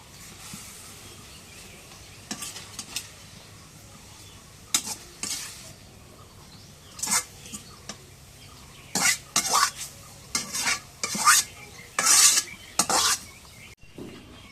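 Radish greens fry in oil in a pan while a spatula stirs them, with a low sizzle underneath and bursts of scraping strokes that grow more frequent and louder toward the end.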